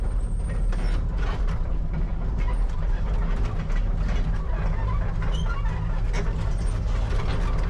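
A vacuum roars steadily while clearing leaves from around an excavator's engine, a loud, continuous mechanical drone with rattling, unbroken and with no speech.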